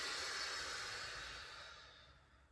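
A long, slow exhale during a workout stretch, starting strong and breathy, then fading gradually over about two seconds, close and alone.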